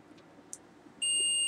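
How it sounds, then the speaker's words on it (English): A multimeter on continuity range gives a steady electronic beep when its black and white probes are shorted together. The tone starts abruptly about two-thirds of the way in and holds at a constant level after a quiet lead-in with faint clicks. "One buzzer sound is coming."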